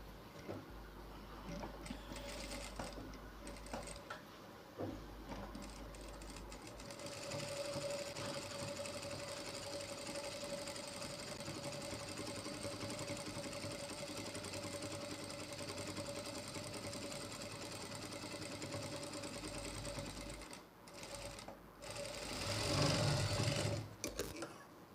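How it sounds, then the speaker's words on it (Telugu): An electric sewing machine runs steadily and close by as it stitches piping onto the back neck of a blouse, a continuous whirring mechanical hum with brief pauses and restarts. "ఈ విధంగా స్టిచెస్ అన్నీ వేసేసుకుందామండి"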